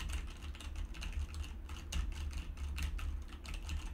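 Quick, steady keyboard typing picked up by a Razer Seiren V2 X microphone: many light clicking keystrokes in an even rhythm, close up and fairly quiet, with no voices.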